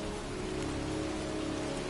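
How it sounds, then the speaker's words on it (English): Heavy rain pours steadily in a cemetery, a dense, even hiss of drops striking surfaces with no pauses. "standing in a cemetery, pouring rain"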